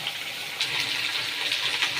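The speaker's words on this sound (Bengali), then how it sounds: "শাকটা আর একবার ধুয়ে নিই ভালো করে" Spinach leaves rinsed under a running kitchen tap, a steady close splash of water into a sink that swells slightly partway through, with no talk.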